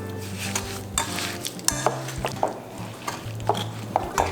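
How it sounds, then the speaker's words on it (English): Strawberries and sugar being mashed with a masher in a bowl for a Korean cafe-style strawberry milk, a series of soft wet squishes and light clinks against the bowl over a steady low background hum. "To get just a quick mash with a masher."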